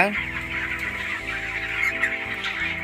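Broiler chickens cluck and call inside a poultry farm shed, several birds overlapping in a busy, continuous chorus, fairly loud and close against a steady low background hum.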